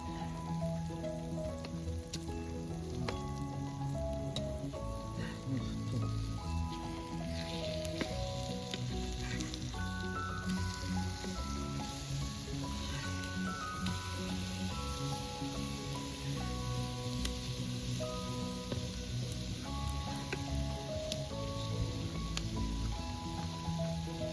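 Surmai fish sizzles and crackles steadily in a pan over a wood-fired village stove, a dense continuous fry with occasional sharper pops and no voices.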